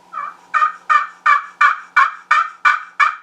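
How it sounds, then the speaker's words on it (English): A turkey hen call repeated nine times in an even rhythm, soft raspy yelps made on a handheld call, close by with no other sounds. "You just want to sound like a normal hen just doing its thing, right?"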